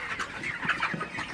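A flock of broiler chickens on a farm clucks and murmurs in a dense, continuous chorus, nearby and moderately loud, with no talking.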